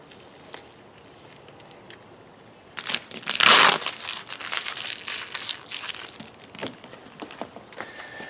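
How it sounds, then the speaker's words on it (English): Vinyl wrap film and carrier tape peeled from a faux mirror cap, with crinkly crackling rustles that swell into one loud, close tearing crunch partway through, then continue as lighter scattered crinkles. "Peel off the excess film and the carrier tape pieces"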